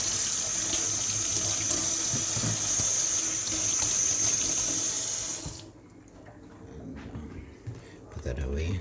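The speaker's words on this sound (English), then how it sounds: "I'll wash this knife." Kitchen tap runs steadily as a knife is washed in the sink, a constant close water hiss that cuts off abruptly partway through, leaving quieter handling noises and faint talk.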